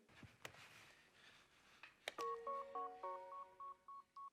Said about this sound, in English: Oh, no, it's Jesse's phone